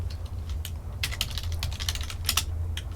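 Rapid bursts of computer keyboard typing, clicking in irregular clusters over a steady low hum, close and moderately loud, with no talking.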